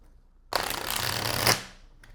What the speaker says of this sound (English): This is a brand new deck and it's very slippery, so I had to shuffle it and split it very carefully